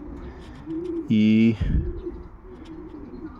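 Racing pigeons cooing in a loft, with a few soft coos, one loud close drawn-out coo in the middle, and light chirps scattered around, while a person's voice is briefly heard nearby.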